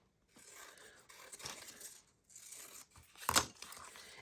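Scissors trimming a paper punch-out embellishment: quiet, close snips and crinkly paper rustles in a few short bursts, with one louder crisp cut near the end.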